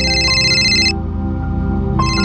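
A phone ringtone plays as a steady melodic tone in an Indian TV drama household scene, cutting out for about a second midway and then resuming, over a dense tonal background.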